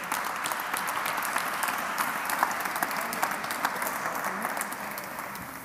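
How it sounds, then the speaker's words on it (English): Audience applause at the close of a conference panel on banks and social capital, a dense steady clapping from a full room that holds for several seconds before easing off slightly at the end. "please give an applause to"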